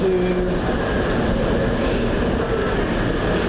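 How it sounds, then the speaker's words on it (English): Steady rumbling railway noise with a faint whine, like a train idling or moving slowly at a platform at Birmingham New Street station, continuous and fairly loud. "Platform 2 is our train to"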